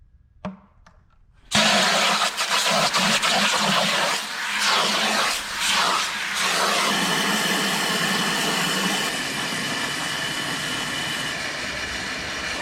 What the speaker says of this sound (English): we're gonna go ahead and get the bucket filled up with soap and water